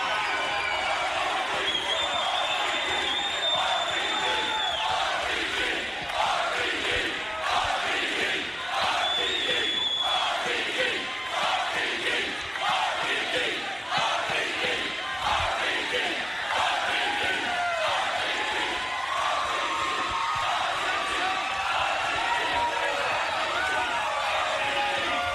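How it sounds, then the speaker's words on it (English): A large wrestling arena crowd at a TNA Impact show roars and chants steadily throughout, a dense wall of cheering with rhythmic swells and occasional sharp whistles, with faint commentary voices beneath. "that's called a crowd reaction"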